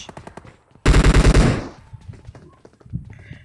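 Automatic gunfire in PUBG Mobile, a loud close burst of about eight rapid shots followed by softer, more distant single shots and clicks.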